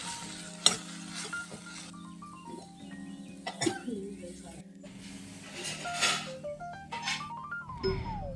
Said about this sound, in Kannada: ಈಗ ಟೊಮ್ಯಾಟೊ ಹುರಿಯಾತಾನೆ.